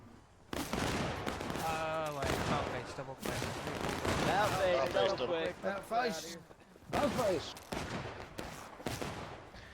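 Musket volleys crackle through a video game battle between Patriot and British line infantry, with dense overlapping reports and repeated bursts as a commentator talks over them throughout.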